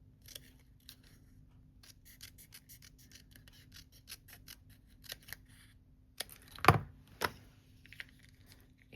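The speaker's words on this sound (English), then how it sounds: "using the Tim Holtz recoil scissors, I'm gonna cut this out" Tim Holtz recoil scissors cut paper at a crafting table: a series of soft, scattered snips, then a louder cluster of sharp cuts near the end, close by against a quiet background.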